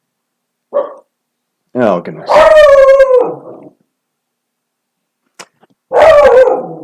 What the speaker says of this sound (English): there's my precious dog who just scared off a delivery person